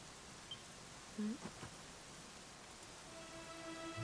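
Steady rain falls throughout a Dragon Quest XI game scene, a dense even hiss of medium loudness with a few faint game tones near the end.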